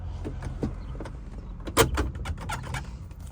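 Old-school Hurst shifter on a 1969 Chevrolet Chevelle pushed down into reverse, giving a series of close mechanical clunks and clicks with one sharper knock partway through, no talking.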